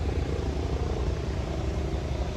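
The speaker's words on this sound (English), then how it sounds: "Oh, I hear a helicopter coming in." A steady low rumble of a helicopter flying overhead hums throughout, fairly loud and continuous, with no speech.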